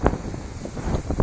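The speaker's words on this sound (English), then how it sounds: "Sorry about the wind." Outdoor wind buffets the microphone beside a house, producing a low, rumbling, uneven roar with gusty bursts throughout and no voices.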